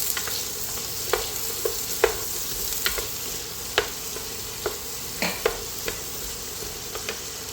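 Onion sizzling in melted butter in a pan, a continuous close frying hiss broken by regular spoon clicks and scrapes as it is stirred, no talk.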